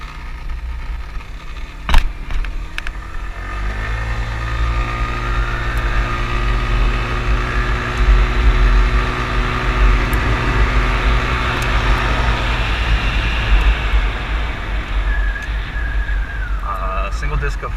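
Engine of a Genuine Buddy 125 scooter with CVT twist-and-go drive, revving up as it accelerates, its rising harmonic tone climbing steadily over wind and road rumble, then dropping away near the end.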